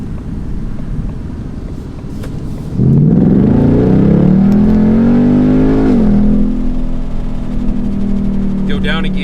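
Mercedes-Benz S550 engine in automatic mode: a steady idle hum, then a loud acceleration whose pitch climbs and drops as it shifts, settling into a sustained cruising drone near the end, with no talk.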